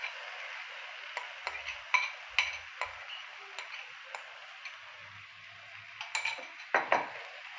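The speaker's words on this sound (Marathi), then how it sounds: "चांगल्या प्रकारे आपण हे हलवून घेऊ" Coarsely ground corn kernels stirred in a pan for corn chiwda, a quiet run of light scraping clinks and taps from a spoon against metal at an uneven rhythm, with faint low thumps beneath.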